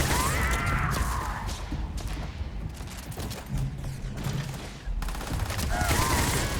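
Bursts of rapid gunfire from a weapon in the video game Starfield: Shattered Space, loud dense volleys with short pauses between them and no talking.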